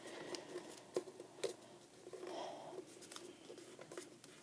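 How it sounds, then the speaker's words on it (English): Paper corners being folded and creased while making a cootie catcher, soft crinkles, taps and rubbing scrapes at an irregular pace, close and quiet, with no talking. "Going to take each corner and fold it in."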